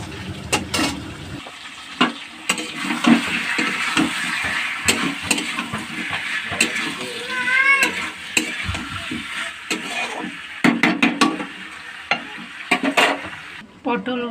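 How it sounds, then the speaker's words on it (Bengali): A paste of ginger, onion and garlic fries in a pan with a steady sizzle, broken by frequent spatula scrapes and clatters against the metal, plus some brief splashy bursts. "মশলা কষানো হচ্ছে,"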